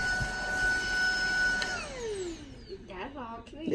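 A Tineco cordless vacuum cleaner whirs steadily at close range, then its motor pitch sweeps downward as it winds down, while a person talks over it.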